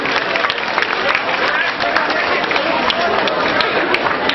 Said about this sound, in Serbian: Jedan veliki aplauz.